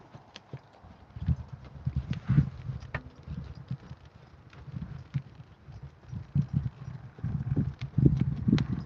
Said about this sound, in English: Every horse is different in their trot.